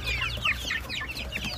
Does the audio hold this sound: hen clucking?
yes